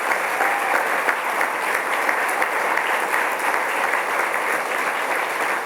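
Sustained audience applause for four steel pan players at an official opening ceremony in Antigua and Barbuda, a steady dense wash of clapping from a large crowd, loud and continuous throughout.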